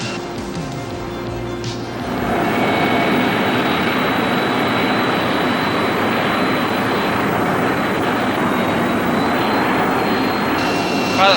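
Jet engines roar steadily during aerial refueling, a loud continuous rumble that swells after a quieter opening of about two seconds and then holds.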